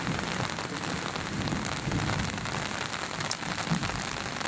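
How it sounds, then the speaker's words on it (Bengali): Heavy rain pouring onto a rooftop garden during a storm, a dense, steady hiss of drops splashing on surfaces, with faint low thunder rumbling beneath. "আল্লাহর রহমতের বৃষ্টি হচ্ছে"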